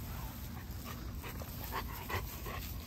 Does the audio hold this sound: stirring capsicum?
no